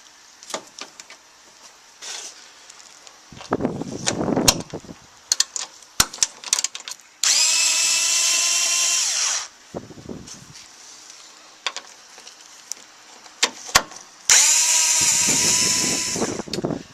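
A power drill with a 12mm socket backs out the radiator bracket bolts on a 2005 Toyota Highlander. It gives two sustained close whirring runs, separated by clanks and taps of tools and parts.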